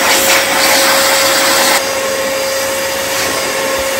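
A Parkside carpet shampooer sucks up water with a loud, steady motor roar and a constant whine, very close, easing slightly partway through but running continuously with no talking.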